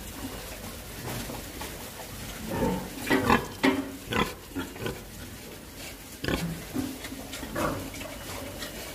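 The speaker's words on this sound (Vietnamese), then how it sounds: "Rồi mình sẽ quay cái lúc mà heo con mà nó uống sữa cho các bạn xem luôn." Two-day-old piglets grunting and squealing softly while feeding on milk, a run of short close grunts with a few louder bursts in the middle, alongside faint liquid slurping.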